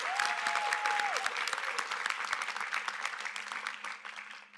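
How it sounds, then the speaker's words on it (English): Steady applause from a luncheon audience honoring young students at an awards ceremony, dense clapping from a crowd that gradually tapers off near the end. "Let's have another round of applause for our young students."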